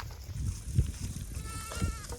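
Goats bleating on a farm after being watered while waiting to graze on neem branches; a few short bleats rise over low, busy outdoor noise.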